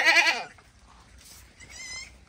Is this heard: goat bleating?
yes